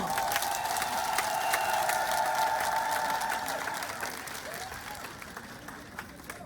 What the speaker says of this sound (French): j'aimerais que les dynamiques femmes de Sikensi s'acclament elles-mêmes